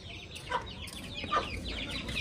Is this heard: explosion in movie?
no